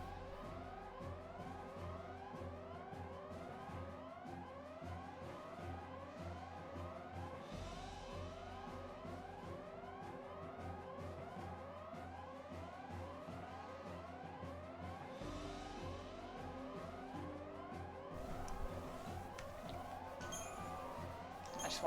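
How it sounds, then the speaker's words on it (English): Wailing sirens in the video game Final Fantasy XIII, layered and sweeping up and down steadily and continuously, with a low game soundtrack drone beneath and no talk. "I just want to get off this screen with the sirens."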